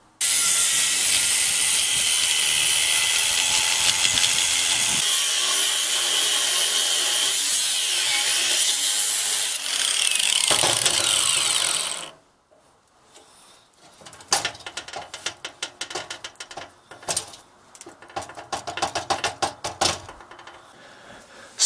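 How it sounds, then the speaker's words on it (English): A block is cut off a Cub Cadet 149 lawn tractor spindle shaft: a loud, continuous, hissing cutting noise runs for about twelve seconds and stops abruptly, followed by scattered quieter taps and scrapes of metal. "I've cut the block off the spindle."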